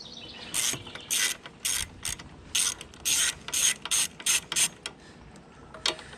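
A ratchet with a 10mm socket loosens a carburetor bolt on a push mower, giving about a dozen short, close bursts of crisp clicking separated by brief pauses.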